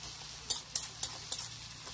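Metal utensil scraping and stirring potatoes frying in a pan, several sharp clinks at a steady pace over a faint sizzle.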